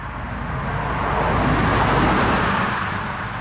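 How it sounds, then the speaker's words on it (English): A car passes close by outside the abandoned Petworth Cemetery, a broad whooshing roar that swells to a peak and fades slightly, loud and steady throughout. "I apologize for the loud noise, that was a car."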